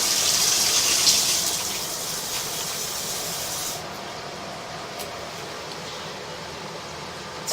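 Water rushes and hisses through a residential sewer line during an inspection, loud and steady at first, then dropping to a quieter, softer flow partway through once shut off.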